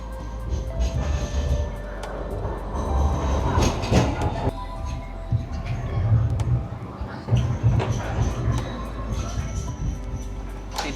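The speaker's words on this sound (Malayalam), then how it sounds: "അങ്ങനെ നമ്മൾ ലൈറ്റ് റെയിൽ വന്നോട്ടോ." A light rail tram in central Sydney rolls in and runs on, a continuous rumble with rattling wheel clicks and occasional squeals, while people talk nearby throughout.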